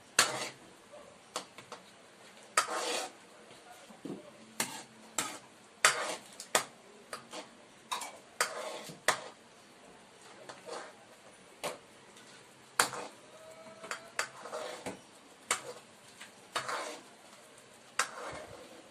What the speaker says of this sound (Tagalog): Halo-halo lang.